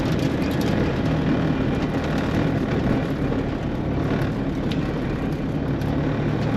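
A Mk2 Ford Escort with an EcoBoost engine on a drag racing strip gives a steady, loud, broadband roar that holds at an even level throughout, with no talk over it.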